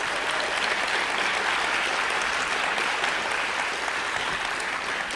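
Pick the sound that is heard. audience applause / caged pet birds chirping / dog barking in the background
audience applause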